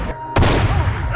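A single loud, close gunshot from the film The Forever Purge, with Kirk shooting Caleb: a sharp blast after a moment of quiet, then a rumbling decay as music and voices continue beneath.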